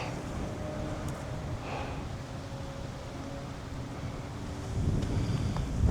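Wind gusts across an open golf course near a lake, buffeting the microphone in a steady low rumble that swells and drops, loud and close, with no voices.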